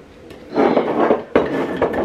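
A teaspoon clinks and taps against the pan of a Lidl bread machine while sugar is added: a few sharp metallic knocks and scraping clatters, close and fairly loud, with no voices.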